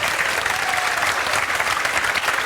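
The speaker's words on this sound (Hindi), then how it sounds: "एक बार इसकी माताजी के लिए भी तालियां बजाओ।" Dense, steady audience applause for a mother being honored alongside her daughter at a public event, loud and continuous with many hands clapping together.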